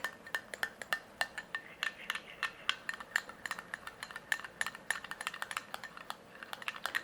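A spoon stirs coffee powder into a hair mixture in a bowl, giving quiet, rapid clinks and scrapes against the bowl in an uneven, continuous rhythm.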